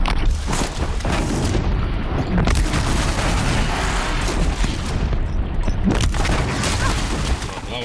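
Sticky bombs going off in Horizon Zero Dawn as a dense, loud, continuous barrage of booming blasts and crackling impacts, with two sharper bursts standing out near the start and middle.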